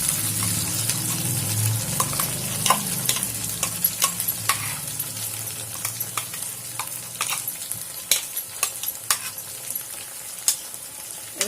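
Masala fries in hot oil in a kadhai for paneer butter masala, giving a continuous close sizzle broken by frequent sharp crackles and spits, with no talking.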